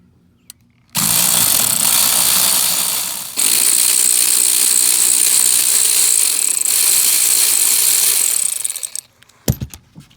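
A ratchet removes the seat bolts inside a Honda Odyssey minivan, making a loud, close, continuous mechanical whir that lasts several seconds. It briefly dips, then resumes and stops, followed by a few scattered clicks.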